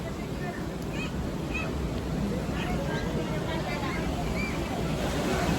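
Steady sea waves and surf wash continuously along a beach, a broad constant roar with some wind across the microphone and faint voices in the distance.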